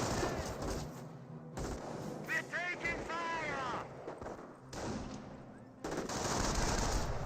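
Machine-gun and rifle fire crackle in a Company of Heroes battle, with Volksgrenadier squads taking fire as they push forward. Dense bursts run steadily through the whole stretch beneath a voice.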